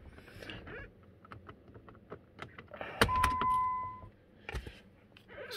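A key slides into a Jeep ignition with faint metallic clicks and jingling, followed by a short electronic chime tone inside the quiet car.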